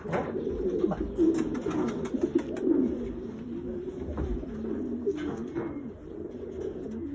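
Racing pigeons cooing in a loft, a steady overlapping chorus of low throaty coos running continuously at close range with no talk.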